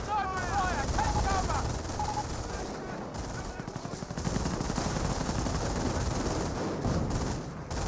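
Rapid bursts of machine-gun and rifle fire crackle through a Company of Heroes 1 battle, a scoped rifle squad under heavy fire, with dense rattling volleys layered over a constant din and occasional higher whistling tones early on.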